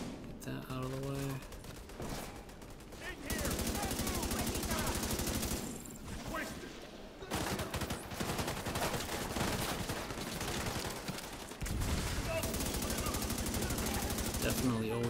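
Bursts of automatic weapon fire in The Division 2 video game, sustained rattling volleys broken by short pauses, with a voice talking over parts of the fighting.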